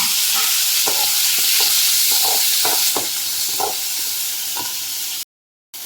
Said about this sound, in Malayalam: അതിലേക്ക് നമ്മൾ ഈ ചെറിയ ഉള്ളിയും തക്കാളിയും പച്ചമുളകും കൂടി വറുത്തെടുക്കാം